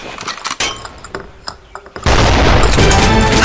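A grenade blows up in a video game shooter match, a sudden loud blast about halfway through that gives way to a sustained, harsh rumbling roar, after a stretch of scattered clicks and small impacts.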